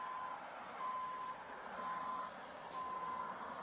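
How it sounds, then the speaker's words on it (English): A tow truck sounds its reversing alarm while hauling a car away: a steady series of four loud, evenly spaced electronic beeps over a constant background hum, with no voices. "Now your car is getting towed."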